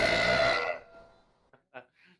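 A loud, long human burp rolls out, then trails off into a short pause before a few brief voices break in quietly.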